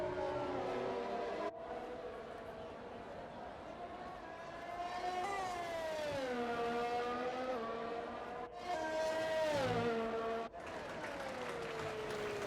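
A Formula 1 car in a racing video game screams around the Monte Carlo circuit, its high-revving engine note rising and falling through gear changes, with brief cuts between shifts and a steady, continuous drone throughout.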